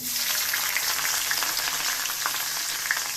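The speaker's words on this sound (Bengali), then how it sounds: "এদিকে কড়াইতে সম্বারা দিয়ে দিয়েছি জিরা এবং গুইমহরি কালো জিরা ফোড়ন তেজপাতা সহ" Cumin, nigella and bay leaf tempering in mustard oil in a wok, giving a dense, continuous close sizzle with small crackling pops throughout and no voices.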